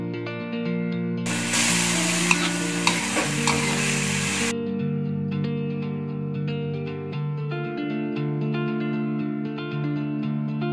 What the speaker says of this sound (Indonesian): Saya aduk kembali.